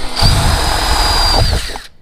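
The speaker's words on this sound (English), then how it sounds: "See how fast it drills? It's really easy." A power drill bores 1/8 inch holes in a Razor SX-500 dirt bike cover, a loud close whine that runs steadily for nearly two seconds before cutting off.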